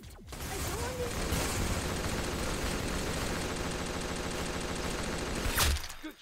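Dense, continuous gunfire fills a Roblox shooting game, rapid overlapping shots and booming impacts layered into a loud, sustained barrage that swells briefly near the end before stopping abruptly.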